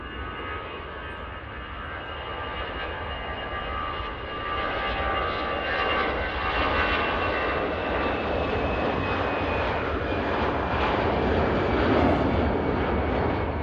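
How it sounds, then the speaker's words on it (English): An EasyJet Airbus A320 jet on its takeoff roll at Manchester Airport, a steady loud roar of engines building slightly as it accelerates, continuous and fairly close with no talking. "A320 on the roll."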